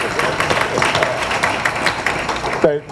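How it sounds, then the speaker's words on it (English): Applause at a community press event, steady clapping from a modest audience throughout, with a voice briefly cutting in at the very end. "Please give her a hand too, please."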